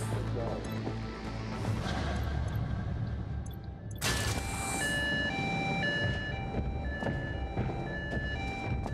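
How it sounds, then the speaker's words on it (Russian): Alarm sirens aboard a ship in the video game Void Bastards, a stepped electronic tone sequence that surges loudly partway through over a rumbling game background. "Ладно, сирены, я понял, лучше убираться."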